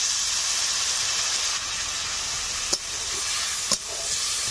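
Steady hissing sizzle of a pan of rui fish and potatoes as a little water is added, with a couple of brief soft clinks over the continuous steam hiss.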